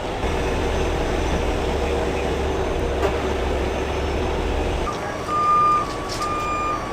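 A truck backs up, its reversing alarm sounding as steady repeated beeps over a low rumbling engine, with brief faint voices nearby.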